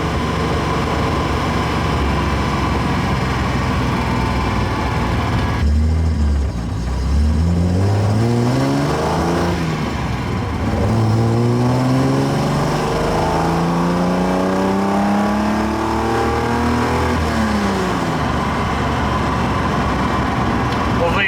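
A classic Datsun 240Z engine pulls loudly on the road, its pitch climbing and falling through several gear shifts as the car accelerates, with a steady drone under it.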